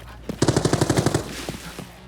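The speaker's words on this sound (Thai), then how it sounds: "เสียงปืนที่ได้ยินแน่ๆเนี่ยเป็น AK12 หนึ่งกระบอกครับ" A rapid burst of AK-12 automatic rifle fire in the video game Arena Breakout Infinite, about a dozen sharp evenly spaced shots, followed by a few scattered fainter shots and quieter game sounds.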